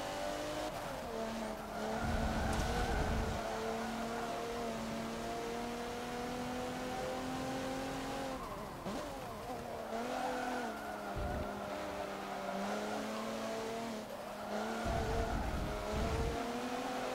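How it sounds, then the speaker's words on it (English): A car in Forza Motorsport 7 drifts with sustained tire squeal over a steady engine drone, the squeal rising and wavering through long slides, with the revs shifting between them. "It's a big drift."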